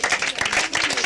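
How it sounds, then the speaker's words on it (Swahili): Children at a school assembly clapping in a lively, uneven burst of hand claps from a nearby group, with faint voices underneath. "mpigieni makofi mzuri"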